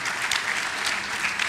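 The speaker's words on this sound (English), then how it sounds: "Ladies and gentlemen, a round of applause for a towering figure in higher education in Africa." Applause from a conference audience at a higher education summit in Ghana, greeting a keynote speaker: a brief, continuous wash of many hands clapping at moderate volume.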